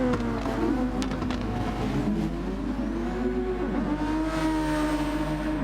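A 1997 Formula One race car in Gran Turismo Sport screams past close by, its engine note rising and shifting pitch through gear changes in one continuous, loud, buzzing whine.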